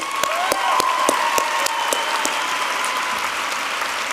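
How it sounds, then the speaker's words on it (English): Large audience applauding at a business school master's commencement ceremony, continuous clapping with distinct close claps cutting through a broad wash of hands, holding steady throughout. "Let's give them a round of applause."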